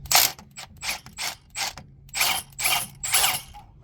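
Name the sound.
impact wrench removing 15 mm motor mount bolt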